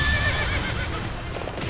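A horse in the Warriors Orochi 3 video game gives a sharp whinny at the start while its hooves keep up a quick galloping clatter, loud and without speech.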